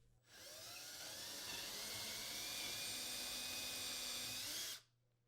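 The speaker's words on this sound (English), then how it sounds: "Use a 3/16-inch diameter drill bit when drilling pilot holes" A power drill whirs at a high, steady pitch for several seconds, drilling a pilot hole in wood, starting and cutting off abruptly, with no talking.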